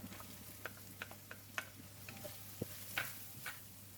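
Onions hit a pan with softened curry leaves and ginger-garlic paste for a brinjal stir fry, giving a faint, low sizzle punctuated by light ticking spatula taps and scrapes over a steady hum.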